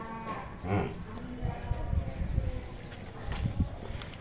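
A heavily built buffalo, ten days from calving, gives a short, deep low nearby on a dairy farm, followed by shuffling, thuds and general farmyard bustle with faint voices in the background.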